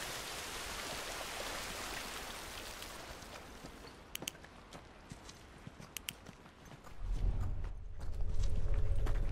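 Steady rain hisses in The Last of Us Remastered, then thins to scattered drips before a low rumble swells in at the end. Nobody talks.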